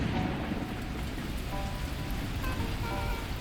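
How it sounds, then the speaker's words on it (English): Torrential downpour in the video game Beacon Pines, a dense, steady roar of heavy rain hammering surfaces with a low rumbling undertone, continuous and loud throughout. "unleashing torrential rain"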